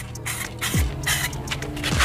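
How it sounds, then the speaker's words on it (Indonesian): Spray paint can hissing silver metallic paint onto a motorcycle wheel outdoors in strong wind, a series of short close bursts with brief gaps between them. "ini baru sekali semprot warnanya sudah silver menyala kayak gini"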